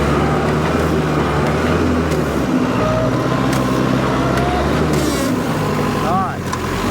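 A tractor fitted with a Titan severe-duty stump bucket grapple digs out a stump in low gear, its engine a steady, heavy diesel drone throughout with a brief hydraulic whine near the end.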